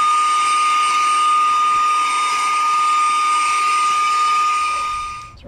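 A Saker 3-in-1 handheld vacuum cleaner running, with a loud, steady high-pitched motor whine and airflow rush held close up for several seconds before spinning down and cutting off at the end.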